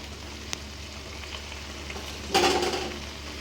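Prawns and banana flower curry being stir-fried in a pan give a low, steady sizzle, then a louder burst of frying and scraping about two-thirds through before settling back to a gentle hiss.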